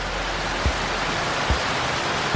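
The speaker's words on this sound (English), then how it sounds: "but now it's returned to rain" Heavy rain on the New South Wales north coast pours down in a dense, unbroken hiss, close and loud, with a few soft thumps and no voices.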